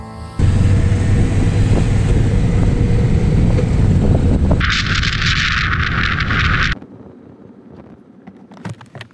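Loud, continuous wind buffeting a microphone outdoors on the TransAmerica Trail, a dense roar that drops off sharply near the end to a quieter background.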